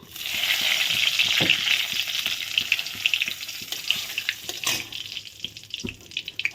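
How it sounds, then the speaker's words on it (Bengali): Cumin seeds and bay leaves sizzle steadily in hot oil as a tempering for a papaya curry, a close, continuous frying hiss with scattered small pops, easing slightly toward the end. "জিরা তেজপাতা ভেজে নেওয়া হয়ে গেল"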